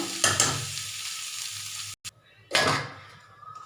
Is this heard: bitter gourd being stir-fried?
yes